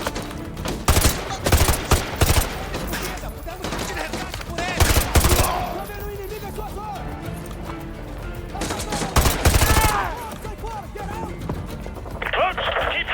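Gunfire rattles through a chase scene in the video game Modern Warfare 2 Remastered, with several loud bursts of automatic fire over a dense, continuous bed of game battle noise.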